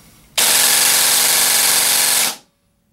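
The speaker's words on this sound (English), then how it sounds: "So that is their motor with this current configuration." An airsoft AEG fitted with an ASG Infinity CNC U-30000 motor, Madbull M120 spring, aluminum piston and 11.1 V LiPo fires one loud, steady full-auto burst of about two seconds, then stops abruptly.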